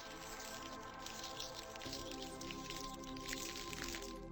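Foley made with dirt and a water bottle to mimic water coming off a character's knees: soft wet squishes and drips, close and fairly quiet, with a brief shift in texture midway.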